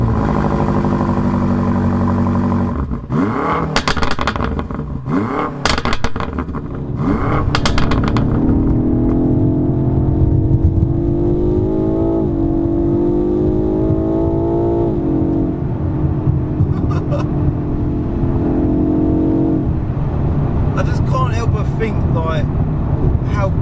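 A BMW F90 M5 Competition with valves and exhaust opened fires up with a loud start, then revs repeatedly in rising and falling sweeps close by, with a voice talking over parts of it.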